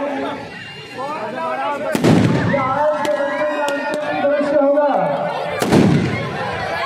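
Fireworks burst at the finale of an outdoor Ramlila performance, with two sharp loud bangs standing out over a busy festive background while someone narrates over a loudspeaker throughout.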